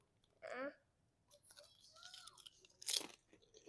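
Lay's potato chips crunching in short, close bursts of bites and chewing, with quiet child-like speech between the crunches.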